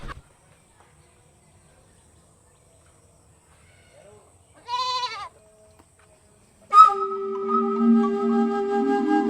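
A goat gives one short, wavering bleat after a quiet stretch, then a louder, drawn-out bleat or cry rings out close by near the end against faint background hum.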